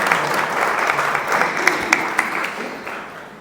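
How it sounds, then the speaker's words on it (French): Festival audience at a Cannes panel on post-#MeToo production applauds a speaker, steady crowd clapping with a few sharper claps standing out, gradually thinning toward the end. "On peut l'applaudir."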